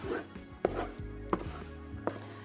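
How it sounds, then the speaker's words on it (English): A spatula or paddle cuts down through hot sushi rice with vertical strokes, giving three or four soft, damp chopping thuds spaced about two-thirds of a second apart, close and fairly quiet. "we'll make some vertical cutting motions, top to bottom and then left to right, in order to single out the grains of rice"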